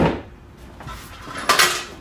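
Dishes and utensils clatter as they are set into a dish drying rack at a camp kitchen, with a sharp clink near the start and another bright rattle of metal and crockery later, close and unaccompanied by talk.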